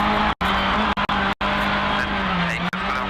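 A Proton rally car on a gravel stage at APRC Rally Hokkaido, its engine misfiring and losing power, roars loudly and close with brief dropouts, under excited talk from people nearby.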